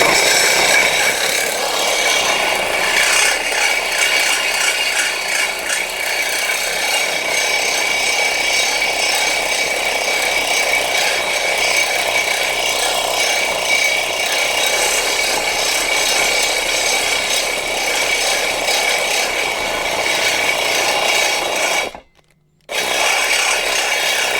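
A saw fitted with an Ezarc blade grinds steadily through a steel I-beam, a loud continuous rasping cut that runs almost unbroken before abruptly stopping near the end, then briefly resuming.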